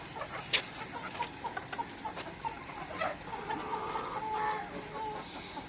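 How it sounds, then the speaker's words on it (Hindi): Desi hens on a poultry farm cluck softly in a small flock, with scattered clucks and chirps over a steady background hiss, fairly faint and without talk. "ये देसी मुर्गी है, अमेरिका की ब्रीड है।"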